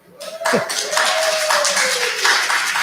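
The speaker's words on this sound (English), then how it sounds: "Pause for riotous applause." Audience applause at the opening of an academic roundtable conference at a museum, a steady wash of clapping that swells quickly and holds, with a brief tonal sweep at the start.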